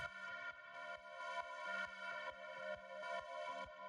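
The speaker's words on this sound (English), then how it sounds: "The next thing that we've got here is this metallic drone," A sustained, bright metallic synthesizer drone with a pulsing rhythm, repeating roughly twice per second at a steady, moderate level.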